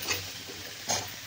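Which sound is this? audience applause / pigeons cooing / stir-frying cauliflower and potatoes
stir-frying cauliflower and potatoes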